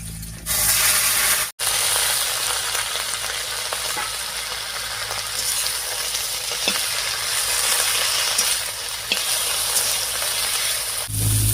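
Pumpkin leaves go into hot oil tempered with five-spice and green chillies, bringing a loud, continuous hissing sizzle. It drops out for an instant early on, then carries on steadily with faint stirring scrapes.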